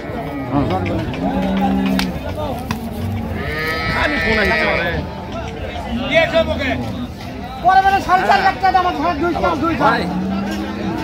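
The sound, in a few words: cattle mooing at a livestock market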